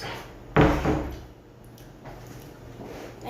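A door bangs once, sharp and near, in a home during breakfast, followed by a quiet room with faint background hum.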